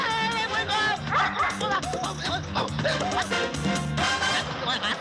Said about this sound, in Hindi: एक कुत्ता जब दूसरे कुत्ते के मोहल्ले में जाता है तो वो कुत्ता भौंकता है उसके ऊपर